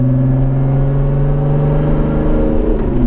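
A 2014 Lotus Evora S pulling away, its engine a loud, close, steady drone with a smooth hum and a slight rise in pitch near the end.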